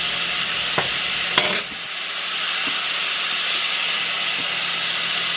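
Greens and turkey sautéing in a pan while being stirred, a steady close sizzle and steam hiss running throughout, with a few sharp spoon scrapes and clinks near the start.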